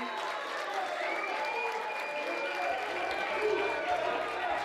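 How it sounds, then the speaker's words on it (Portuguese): Audience applause at the close of a debate, a dense steady clapping that holds through the whole stretch at moderate distance, with a voice briefly audible over it. "Podem para todos aplaudir. os candidatos, um grande aplauso."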